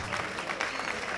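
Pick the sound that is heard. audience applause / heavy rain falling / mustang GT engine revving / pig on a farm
audience applause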